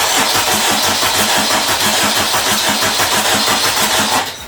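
A Honda Civic's K20 engine, low on fuel, cranks loudly and continuously on its first start attempt with a churning, rhythmic whir. It stops abruptly just before the end, with no voices.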